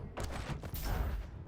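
Loud, close rocket launches and blasts in a 2v2 team deathmatch arena shooter, a few overlapping bursts packed into a second and a half.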